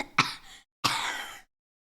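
Two harsh coughs from a sick person during a live stream, the first short and sharp, the second longer and raspy after a brief pause, close up with silence around them.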